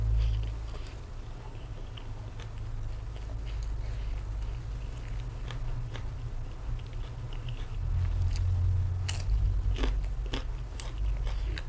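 Someone bites and chews a crispy fermented fish sheet up close, giving repeated sharp crunches over a low, steady background.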